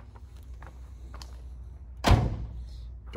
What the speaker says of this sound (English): Doors sound healthy.